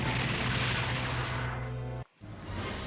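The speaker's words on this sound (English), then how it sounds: "An explosion? That was our attack from outside the dome." A deep, rumbling explosion blast in the Super Robot Wars video game, loud and sustained for about two seconds before cutting off abruptly, followed by a quieter resumed rumble.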